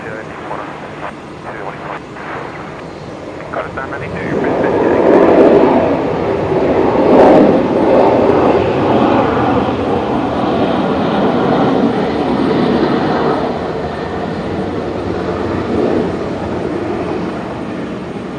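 An airliner in from Perth powers up at Brisbane Airport, its engine roar swelling loudly after a quieter start and then holding as a broad rumble. Voices come and go faintly beneath it.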